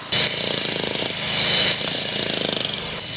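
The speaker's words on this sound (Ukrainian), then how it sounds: "Сьогодні по Павленківській площі у Полтаві розпочали ямковий ремонт дороги" A jackhammer pounds at road asphalt for pothole repair on a city square in Poltava, Ukraine. It runs loud and close in fast continuous bursts, with a brief let-up in the middle, and no talking.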